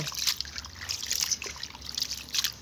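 Running tap water splashing and trickling steadily while rinsing an ingredient for crispy pork crackling chili paste, moderately close with small irregular splashes and no talking.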